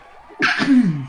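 A single sharp, close sneeze bursts out after a brief quiet lead-in, trailing into a lower voiced tail.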